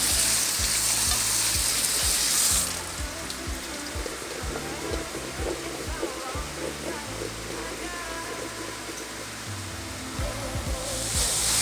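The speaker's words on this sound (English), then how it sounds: "when you're cooking your sausage" Crumbled sausage frying in a pan makes a dense, close sizzle with rapid crackling, plus a series of rhythmic low knocks like a utensil tapping and stirring in the pan.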